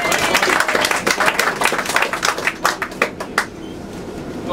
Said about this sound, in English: I hope you give him a round of applause for that too.